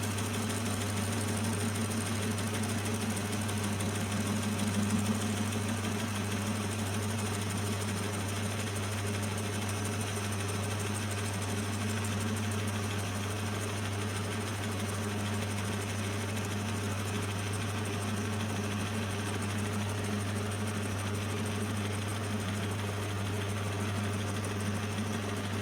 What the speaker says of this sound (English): there's an old bolt stuck in there, so I'm just machining that off as well.